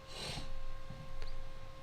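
A person gives two short nasal snorts, the first sharper and louder, the second softer, against a quiet room hum.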